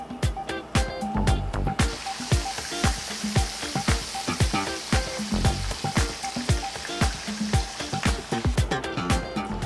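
Chicken breast deep-frying in blue-tinted oil for a Takis-coated fried chicken sandwich, a steady close sizzle and bubbling broken by repeated sharp clinks and taps of a utensil, with no talking.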